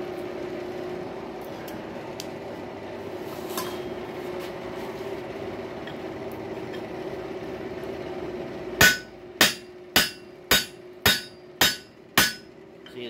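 A heated rail spike is hammered on an anvil at a forge, eight loud, evenly spaced ringing strikes coming after a stretch of low steady hum and background noise.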